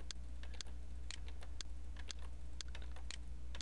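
Computer keyboard keys click in quick irregular taps while pasting with Ctrl V, crisp and close over a steady low hum.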